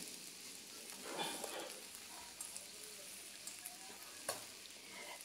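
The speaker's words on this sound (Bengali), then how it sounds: "দিয়ে এগুলোকে আরেকটুখানি নাড়িয়ে চাড়িয়ে এগুলোকে আমি ভেজে নিচ্ছি" Cashews stirred into fried onions in a pan give a steady low sizzle with scattered scraping and clinking from the spatula, fairly faint throughout, with a sharper knock near the end.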